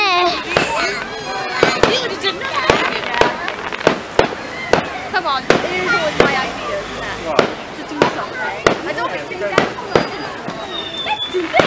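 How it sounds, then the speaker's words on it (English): Fireworks at an outdoor weekend display, with many sharp bangs and crackling bursts popping rapidly throughout, loud and fairly near, under excited voices talking and shouting. "They've got a lot of fireworks"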